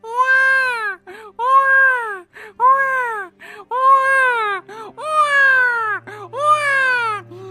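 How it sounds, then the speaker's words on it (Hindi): An infant wails from inside a cave in a steady run of about seven loud, drawn-out cries, each rising and falling with short breaths between, close and clear with no talking over it. "तभी उसे गुफा के अंदर से एक मासूम बच्चे के रोने की आवाज सुनाई देती है"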